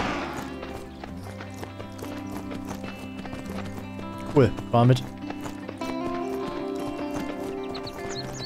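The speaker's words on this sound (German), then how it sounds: "Ich müsste mal das Pferd mitnehmen." Horse hooves clip-clop in Myth of Empires, a steady trot running through most of the stretch beneath game music, with someone talking over it.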